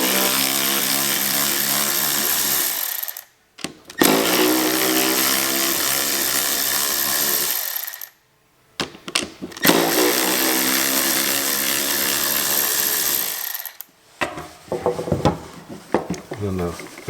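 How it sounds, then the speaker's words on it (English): A small battery-powered ratchet backs screws out of a water valve, whirring loudly and steadily in long runs broken by short pauses, followed by a few scattered clicks at the end. "I just use a little battery powered ratchet"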